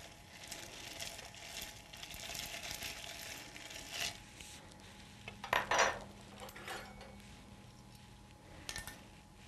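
Lemon martini being stirred in a mixing glass, giving soft clinks and scrapes of a spoon on glass, with a brighter cluster of clinks midway, at a low level with no talk.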